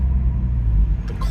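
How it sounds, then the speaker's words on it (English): Acura Legend car on a test drive after a hydraulic clutch system rebuild, giving a steady low engine and road rumble from inside the cabin, brief and moderately loud. "maiden voyage, first test drive since doing the clutch system"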